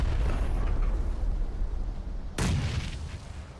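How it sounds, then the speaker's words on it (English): Grenades exploding in the PUBG battle royale game: one heavy, rumbling blast fades out, then a second sudden loud boom hits and rolls away. "Man, they have so many fucking grenades."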